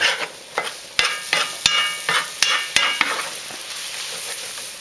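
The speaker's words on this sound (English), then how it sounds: "add just a little bit of flour at a time and then stir that so it doesn't clump up on you" Spoon stirring flour into a roux for gumbo in a pot, with sharp scraping strokes at a steady, unhurried rhythm, close-up over a faint hiss and no talking.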